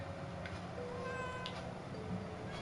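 Cat meowing in the horror game Layers of Fear Inheritance, a thin drawn-out mew heard faintly over a constant low ambient hum, with a couple of soft clicks and no speech.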